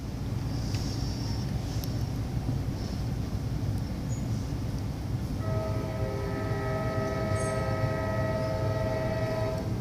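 A CSX freight train rolls past with a steady low rumble of wheels and cars, then a loud multi-tone horn sounds from the midpoint onward, held and sustained over the rushing noise.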